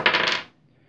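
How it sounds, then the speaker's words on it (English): A weather die from the Takenoko board game rattles briefly on the table, a bright clattering roll of about half a second that stops abruptly, close by. "we start rolling the weather dice"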